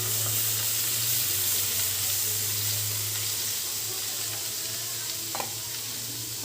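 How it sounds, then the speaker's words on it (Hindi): Besan, turmeric and milk sizzle steadily in a hot pan while being stirred, giving a loud, continuous frying hiss with a low hum and a brief scrape near the end. "इसको हम बराबर चलाते रहेंगे ताकि जो ये बेसन है वह हमारा दूध में अच्छी तरह से मिल जाए"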